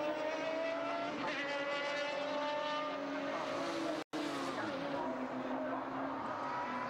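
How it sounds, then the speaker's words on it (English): Race cars circulating at Brands Hatch Indy circuit during a Radical Enduro race, a continuous engine drone with shifting pitch as cars pass and spin off, heard at a distance with no clear talk. "Oh, and another spinner. Another one spun off."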